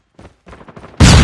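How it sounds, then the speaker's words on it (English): A flashbang grenade goes off in Call of Duty Mobile as a sudden, loud, broadband blast that fills the last fraction of a second. Faint voice chatter and game noise come just before it. "flashbang."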